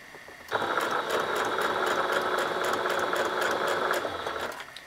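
A sewing machine stitches fabric steadily for several seconds, its rapid mechanical stitching rattle close and fairly loud, starting and stopping abruptly.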